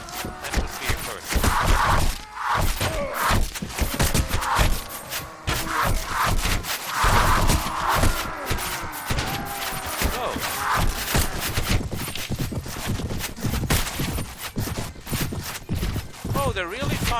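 Archers on a hilltop loose volley after volley at the player in the Mount & Blade mod Prophesy of Pendor, with arrow whooshes and impacts mixed with hoofbeats and battle noise, steady and dense throughout, under a speaking voice.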